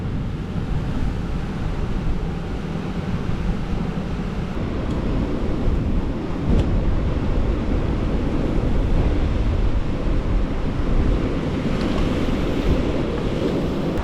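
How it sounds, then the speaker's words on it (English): Ocean waves crash onto the shore in the Australian bush in a steady, loud, roaring wash, with surges swelling and receding and wind buffeting the microphone throughout. "The waves crashing in the background here"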